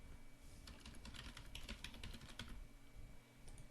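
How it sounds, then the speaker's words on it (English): Rapid clicking of keys on a computer keyboard as a username is typed, a quick run of close, crisp taps with a few pauses, alone without talk. "Type in your username"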